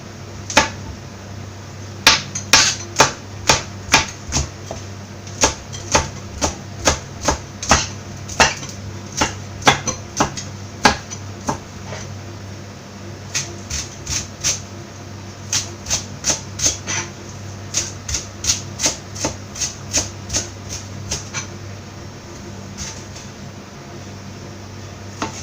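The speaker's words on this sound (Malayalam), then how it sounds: "ഇതുപോലെ വളരെ പൊടിയായിട്ട് അരിഞ്ഞെടുക്കാം." A knife chopping food finely for Kerala-style wheat dosa, the blade tapping on a board in quick, sharp bursts of knocks with short pauses between runs, up close over a low background hum, with no talking.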